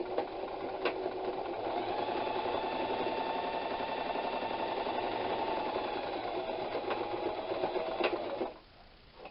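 A sewing machine runs steadily at close range, stitching a Storm at Sea quilt block, a continuous motor drone with needle chatter that stops abruptly near the end.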